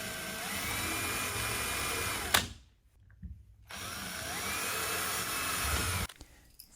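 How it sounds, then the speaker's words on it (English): A power drill whines steadily as it drills holes to mount window shade brackets, two loud bursts split by a short pause, then stopping abruptly. "now let's get to drilling"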